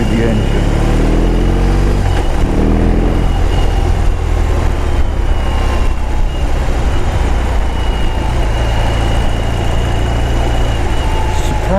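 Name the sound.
BMW R18 motorcycle engine running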